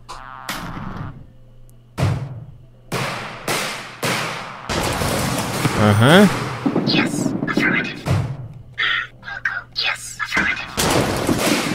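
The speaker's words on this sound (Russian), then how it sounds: "Да куда эта пушка-то бомбит-то?" Cannon bombardment in the strategy game REDCON sends repeated heavy explosions booming one after another, sharp thuds with decaying rumble, while someone talks over the barrage.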